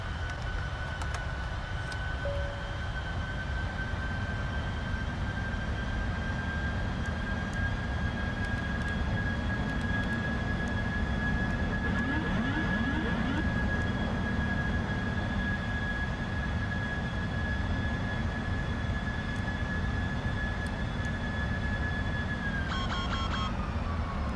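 Inside the cockpit of an Eva Airlines airliner in the Prepar3D flight simulator on approach, steady engine and airflow drone hums throughout while flaps extend and landing gear lowers, with a faint mechanical shift near the end.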